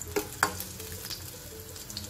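Green chillies frying in ghee for a fasting potato bhaji, a soft steady sizzle with two brief sharp clinks of a spoon against the pan near the start.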